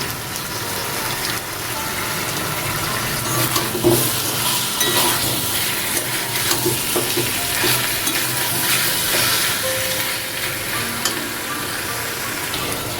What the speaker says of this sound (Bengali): মাংসটা কিছুটা কষানো হয়ে এলে দিয়ে দিচ্ছি এক চামচ জিরের গুঁড়ো